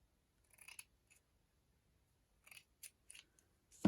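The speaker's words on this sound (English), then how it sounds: "my scissors are just showing how badly they cut." Several short crisp snips of dull scissors cutting cheesecloth, spaced irregularly with quiet gaps between, close and fairly soft.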